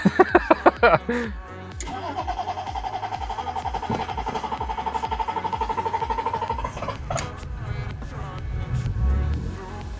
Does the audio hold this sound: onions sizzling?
no